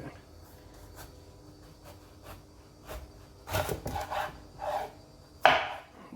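Eggplant sliced with a knife into thick rounds for a low-carb burger bun, quiet irregular cuts on a board, then a few firmer chops and one sharp knock near the end.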